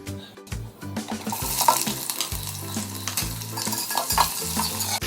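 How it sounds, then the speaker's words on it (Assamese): Onions sizzle steadily in hot oil with whole spices for Assamese mutton curry while a spoon scrapes and stirs the pan in repeated strokes; no one speaks. "পিঁয়াজখিনি ৰঙা নোহোৱালৈকে ভাজি থাকিব লাগিব"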